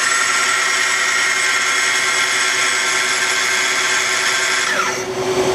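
A Citizen L316VII CNC Swiss lathe runs its main spindle at 2,000 RPM, a steady high-pitched mechanical whine with dense machine hiss that holds constant and then begins to wind down at the end.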